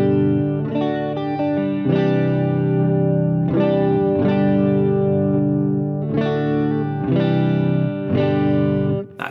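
Electric guitar through a Boss Dimension C chorus effect on a Boss GT-1000 Core multi-effects unit, playing sustained chords strummed in separate groups with a wide, shimmering tone, loud and close.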